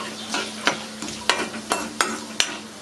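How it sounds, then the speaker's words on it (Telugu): Fenugreek seeds and spices frying in oil in a pan, a steady close sizzle broken by sharp stirring scrapes that come roughly every half second, with no voices. "ఇవన్నీ దోరగా ఆయిల్లో వేయించుకోవాలి"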